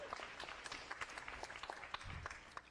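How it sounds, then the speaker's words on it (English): A studio audience at a live talk show gives a round of applause, quiet and somewhat distant, made of scattered, fairly sparse claps that keep going without a break. "Give him a round of applause"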